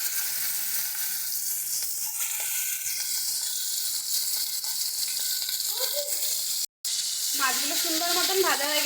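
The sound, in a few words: prawns frying in hot oil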